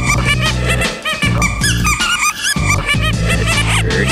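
Sophie the Giraffe rubber teething toy squeezed repeatedly, giving loud, close, high squeaks in a quick rhythmic series of squeeze-and-release pulses with no talk.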